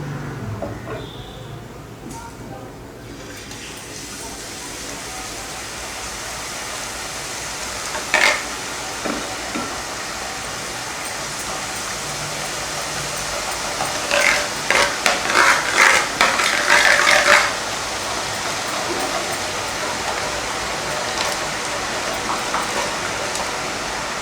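Boondi drops for laddu fry in hot oil with a soft, continuous sizzle, broken by a few ladle taps and a cluster of rattling metallic scrapes near the middle.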